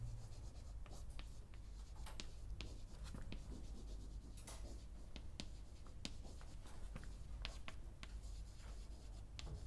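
Pen writing on paper during a chemistry lesson, close scratchy strokes in quick irregular bursts over a steady low background hum, with no talk.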